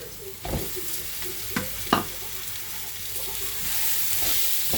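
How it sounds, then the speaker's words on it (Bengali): Chopped avocado and browned onion fry in a pan, a steady close sizzle broken by a few sharp stirring scrapes, with no talk. "পেঁয়াজটা ভাজা ভাজা হয়ে গেছে এই মুহূর্ত কেটে রাখা অ্যাভোকাডোগুলো দিয়ে দেবো এর মধ্যে"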